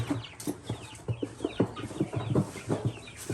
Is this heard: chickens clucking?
yes